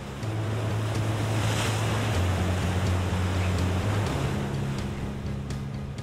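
Surf breaking steadily along a South African coastline renowned for its waves, a continuous loud wash of water with a low rumble and wind noise throughout, no voices.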